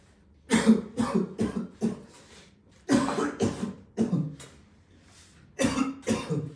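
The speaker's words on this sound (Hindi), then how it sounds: "क्या हो गया तुझे, इतना क्यों खांस रहा है?" A man coughs repeatedly in a Hindi drama about illness, three close, loud fits of several harsh rasping coughs each, separated by short pauses, with no speech.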